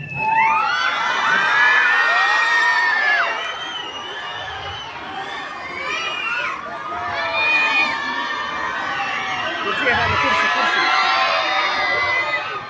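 A large crowd of schoolchildren at an Independence Day event shouts, whoops and cheers loudly in two long bursts with a brief dip between them, many high voices overlapping close by.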